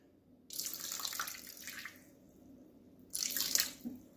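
Aged malt vinegar poured from a plastic bottle into a dish, two bursts of close liquid splashing and trickling, the first longer, with a short pause between them.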